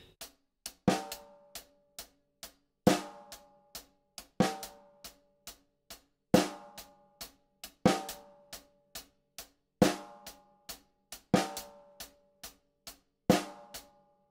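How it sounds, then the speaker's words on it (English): Drum groove with a displaced double snare backbeat over steady eighth-note hi-hats, crisp and evenly repeating, played alone with no voices. "So the two snares with the hi-hat sound like this."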